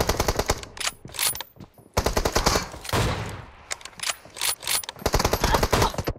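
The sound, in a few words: gunfire in video game PUBG Mobile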